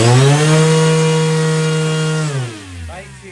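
An RC motor, slightly worn, spinning a propeller on a thrust test stand, producing a loud, steady, close-up buzzing whine that winds down in pitch and fades after a couple of seconds.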